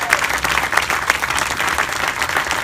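Dense audience applause for mayors and elected officials of the South Bay at a senator's swearing-in ceremony, steady and loud throughout with no speech over it.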